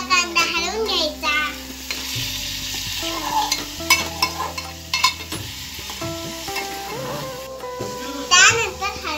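Chopped onion stirred in a hot pan while Maggi noodles are being made at home: steady frying sizzle with spoon scrapes, heard under an adult's talk and children's voices nearby.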